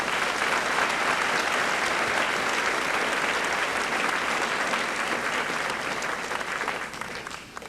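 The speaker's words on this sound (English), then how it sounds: "Let's give all these students a round of applause." An audience at a high school senior assembly applauds students receiving awards, a steady, dense wash of clapping from many hands that holds evenly throughout before tapering slightly at the end.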